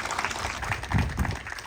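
An audience at an official handover ceremony for hospital extension works claps in a short, moderate burst of applause, steady and fairly close.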